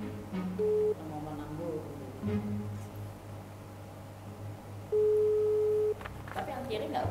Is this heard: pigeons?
no